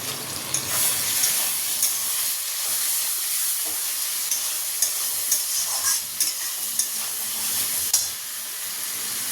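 Potatoes fry in a pan with tomato, green chili and spice masala, giving a steady loud sizzle with occasional stirring scrapes and spoon clinks throughout, no voices.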